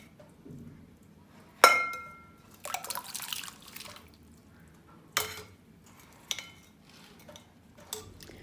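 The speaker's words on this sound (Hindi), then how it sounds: "ये देखिए सारी चिप्स को मैंने अच्छे से धो लिया है।" Washing cut potato chips for French fries: sparse splashes of water and light clinks against a bowl, with quiet pauses between each stir.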